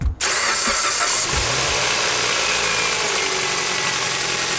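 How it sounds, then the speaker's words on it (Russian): A Kia Ceed with a 1.6-litre G4FG petrol engine cranks briefly and fires up, then settles into a loud, steady close-up idle running alone with no talking. "Запуск двигателя."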